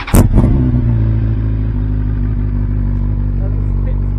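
A 2021 BMW S1000RR with an Akrapovic GP muffler and Brentune ECU flash revs sharply twice, loud and close, then settles into a deep, steady idle rumble.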